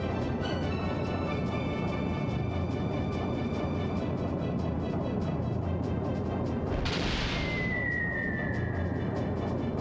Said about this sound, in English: Better watch out for those torpedoes.